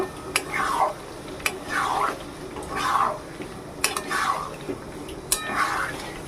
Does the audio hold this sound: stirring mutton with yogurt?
yes